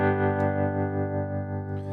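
Amp-modeled guitar in Logic holds a single distorted chord while a free-running vibrato effect makes it swell and waver rhythmically, close and loud with no voices.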